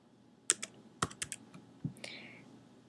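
A handful of separate computer keyboard keystrokes, sharp clicks in an irregular rhythm as a password is typed at a school computer, close and clear in an otherwise quiet room with no voices.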